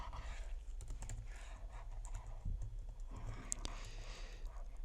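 Keys clatter on a computer keyboard while HTML code is typed, a soft, close run of quick irregular taps with a few sharper strokes, with no talk over it.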